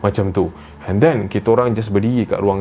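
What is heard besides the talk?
No distinct noise like a dog, phone or traffic.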